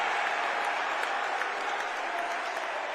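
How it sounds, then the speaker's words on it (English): Indoor crowd at an NCAA Division II men's basketball game, West Chester at Shepherd, applauding a team off the court; sustained, even clapping from many hands with a faint murmur of voices underneath. "Clapping Westchester off."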